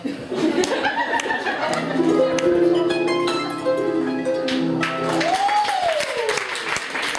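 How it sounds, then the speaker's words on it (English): Audience at a poetry reading with harp accompaniment claps steadily, mixed with chuckles and laughter, while harp notes ring and a voice speaks over the applause. "Clap if you can hear me"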